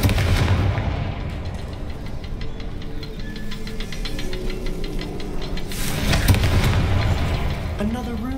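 A Confringo blasting spell explodes in the Hogwarts Legacy video game, a loud booming burst among rumbling game effects and background score.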